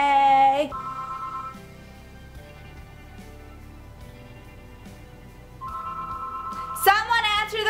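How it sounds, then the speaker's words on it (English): Phone ringing with an incoming call: two short electronic ring bursts separated by a quiet gap, close and clear, with a brief voice at start and end. "Someone answer the phone!"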